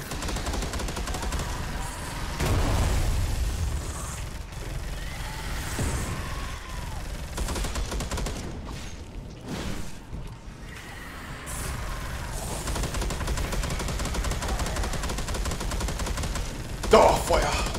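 Heavy assault cannon fire from a Terminator in the video game Space Hulk: Deathwing: loud, sustained rattling bursts of rapid gunfire that run almost continuously, with short dips between volleys.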